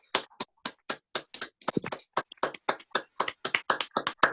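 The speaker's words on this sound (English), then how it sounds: "Can we give everyone that read another applause, please?" A handful of people clap for readers at an online literary reading for a small press anniversary, separate sharp claps in an uneven rhythm, close and clear, with no talk over them.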